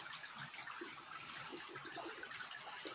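Steady rain falling on a wet autumn day in a Finnish village, a faint, continuous watery hiss with no talk.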